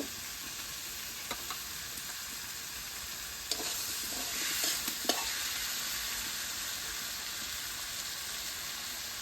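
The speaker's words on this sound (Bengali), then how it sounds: "আমার আলু ভাজা ভাজা হয়ে গেছে, এখন এই যে বাটা হলুদ দিয়ে দেব" Potatoes fry in a pan as turmeric paste is added, giving a quiet, steady sizzle with a few soft stirring clicks and scrapes throughout.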